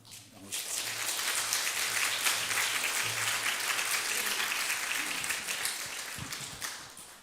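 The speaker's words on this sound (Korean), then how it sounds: "나오실 때 뜨겁게 박수로 환영해 주시면 고맙겠습니다." A church congregation bursts into warm applause to welcome a visiting preacher; the clapping starts abruptly, holds as a dense, even roar for several seconds, then tapers off near the end.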